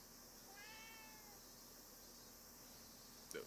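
A cat in the video game AYAKAisDEAD gives one faint drawn-out meow with a falling harmonic pitch, followed by a brief sharp click near the end.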